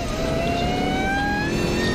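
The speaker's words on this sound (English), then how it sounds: "Got the 6-liter gas engine" A Chevy truck's 6-liter gas engine hums steadily nearby, a low continuous drone with faint whining overtones and no talking.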